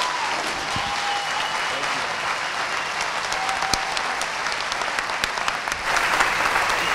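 An audience at a leadership lunch applauds as Clint Bruce is welcomed to the stage, a full and sustained clapping that fills the room at a steady level from start to finish and swells slightly near the end.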